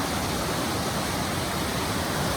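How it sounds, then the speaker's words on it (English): A raging creek with heavy flow near the Green Lakes trailhead, a loud, close, unbroken roar of rushing water with no talking. "we already run into a raging creek."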